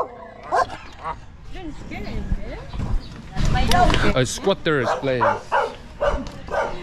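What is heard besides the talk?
dog barking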